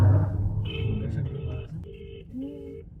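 A telephone rings while a call is being placed, sounding as a few short electronic tone bursts separated by brief gaps; at the start, voices and crowd murmur sit beneath the tones before fading.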